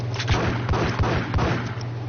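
Desert Eagle pistol fire in the shooter game Max Payne, a rapid run of about six loud, punchy shots at a steady rhythm, close and dominant over a low rumble with no talk.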